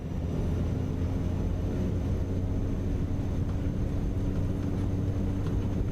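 Black Square Caravan Pro turboprop in Microsoft Flight Simulator 2024 on its takeoff roll, a steady, loud engine drone and low rumble holding constant throughout with no talk.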